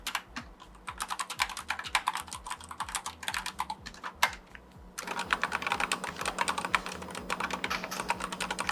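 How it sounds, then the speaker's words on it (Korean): Rapid typing on a Corsair magnetic mechanical gaming keyboard with built-in dual-layer sound dampening, giving soft, muted keystroke clicks in a steady flurry, close and fairly quiet with no voices. "지금 들리는 이 소리는 커세어 KH90 맥스 마그네틱 기계식 게이밍 키보드를 타건하는 소리입니다."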